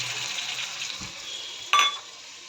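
A spice paste of cumin-ginger paste, salt, turmeric and tomato sizzles softly in a pan as it fries. It makes a steady, low crackle with a brief louder stir or clatter near the end.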